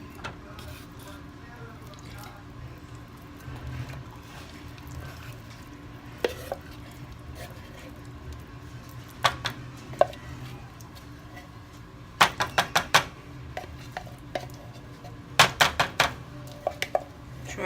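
Black beans are emptied from a can into a pot on medium heat, with sporadic clinks and taps of utensil against can and pot and soft wet plops against a quiet room background.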